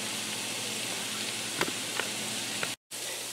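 Onions caramelizing in a cast iron skillet give off a steady, soft sizzle and hiss, with a few faint pops and taps, broken briefly by a moment of silence near the end.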